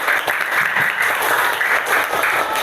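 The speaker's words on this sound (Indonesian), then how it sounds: "Tepuk tangan untuk Yuni." A primary-school classroom of children gives a student a loud round of applause, a continuous crackle of many small hands clapping together at close range for a few seconds.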